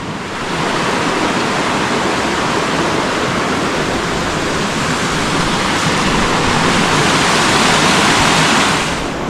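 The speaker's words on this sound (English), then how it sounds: "So this is Kirkland Creek." Kirkland Creek rushes beneath a bridge on a trail, a loud, continuous broadband wash of flowing water, close and steady throughout.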